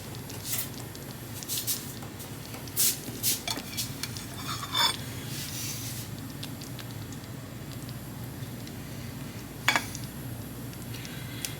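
Hot dogs in barbecue sauce lifted from a crock pot onto a plate: a few soft utensil clinks and scrapes against the ceramic pot and plate, close and quiet, with scattered light taps over a faint background hum.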